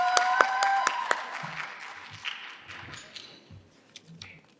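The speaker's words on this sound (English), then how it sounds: "Please join us in giving a warm applause for Filson." Applause from a small gala gathering: scattered hand claps, strongest at the start, thinning out and fading toward the end.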